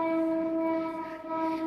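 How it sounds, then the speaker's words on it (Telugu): A train near a railway station sounds a steady tonal horn, a sustained, moderately loud blare that holds through the moment with a slight dip partway, and no voices. "ట్రైన్ సౌండ్ అయితే ఉంటుంది,"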